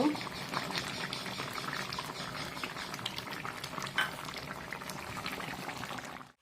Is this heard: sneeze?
no